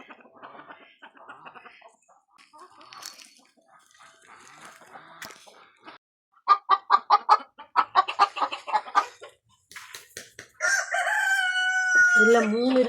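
Chickens in a coop cluck in a rapid burst of pulsing calls, with softer clucks and rustling before it and a louder, sustained crow-like call at the end, all close by and without talk.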